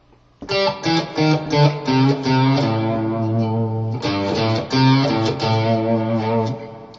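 Electric guitar playing a blues lick over a 12-bar progression, entering on beat 3 and resolving back to the 1 chord; sustained, clearly picked melodic phrases ring out alone, steady and close.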